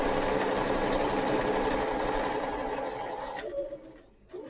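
A sewing machine stitches bunting flags in a steady, loud, close mechanical whir that runs continuously and then slows and stops near the end, with no voices.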